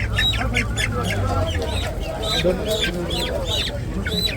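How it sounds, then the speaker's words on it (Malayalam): Many chicks cheep in quick, repeated high chirps, close and busy, over a low background murmur at a market stall. "ഈ ഭാഗത്ത് കോഴിക്കുട്ടികൾ"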